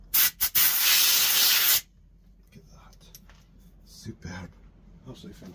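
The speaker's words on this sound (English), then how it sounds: "quick blast of air." A loud, close hiss of compressed air blown over a bass guitar under construction in a workshop, lasting under two seconds and stopping abruptly, followed by quieter handling sounds and some talk.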